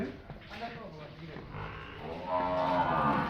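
Haryana buffaloes at a cattle market moo in deep drawn-out calls, the strongest and nearest toward the end, while people talk over them.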